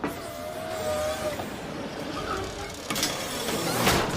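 Malfunctioning parking gate arm whirring and rattling against a car in a TV commercial, a thin motor whine followed by clunks and scraping, fairly soft and without speech.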